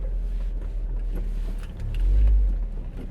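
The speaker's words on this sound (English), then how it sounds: "Oh, speed humps. These are not my friend." A lowered, turbocharged Mazda MX-5 rolls slowly over speed humps, its engine a steady low rumble that swells briefly as the car climbs a hump, with no talking.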